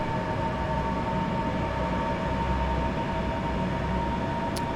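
A passenger train with large windows runs along the line toward Eastbourne, heard from inside as a steady, even rumble and hum that continues the whole time.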